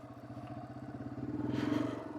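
A Yamaha TW200 motorcycle turning around on a hilltop dirt road, its single-cylinder engine thumping in a steady rapid pulse that swells slightly louder midway, heard close with faint clatter.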